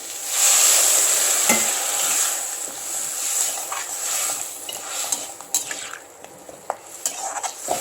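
Rice-washing water poured into a hot pan of sautéed vegetables on the stove, a loud rushing sizzle at first that settles into bubbling, then a few clinks of a utensil against the pan.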